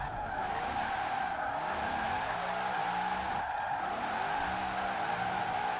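A Formula Drift Corvette slides through a drift in Forza Horizon 4, its tires skidding and squealing in a long, steady, loud screech over the droning engine, with no talk.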